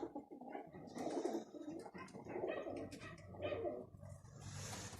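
Pigeons coo softly nearby in repeated low, throaty phrases, overlapping one another, with faint chirps in the background.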